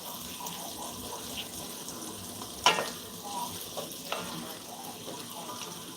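Food sizzles in a cast iron pan while a stirring stick scrapes through it, with one sharp knock midway, a few lighter scrapes after, and a quiet fry hiss throughout.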